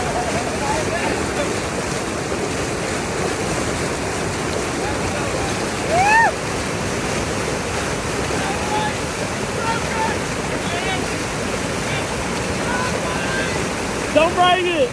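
Rushing water from a standing river wave in Texas roars steadily and close for the whole stretch, with wind buffeting the microphone and brief shouts and whistles breaking through now and then.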